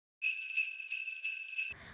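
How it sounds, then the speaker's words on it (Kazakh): A bell rings out with a bright, sustained metallic tone, steady and clear for about a second and a half before cutting off abruptly, heard alone. "Мысалы, қоңырау соғылғанда шыққан дыбыс."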